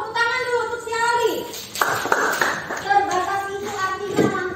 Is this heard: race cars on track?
no